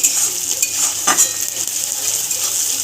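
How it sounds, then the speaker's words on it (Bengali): Onions fry with a little salt and sugar in a pan, sizzling steadily up close while a spatula stirs and scrapes with a few metallic clinks. "ভালো করে ভেজে নিচ্ছি।"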